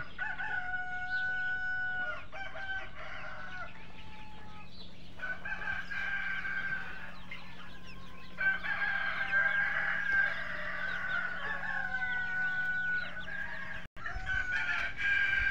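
Layer chickens in a farm house clucking and calling continuously, several birds overlapping at moderate distance over a steady low hum, with one brief dropout near the end.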